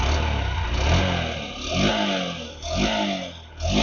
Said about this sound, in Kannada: ಇಂಜಿನ್ ಸ್ಟಾರ್ಟ್ ಆಯ್ತಾ? ಸ್ಟಾರ್ಟ್ ಆಗಿದ್ದೆ ಗೊತ್ತಾಗ್ಲಿಲ್ಲ ನಂಗೆ.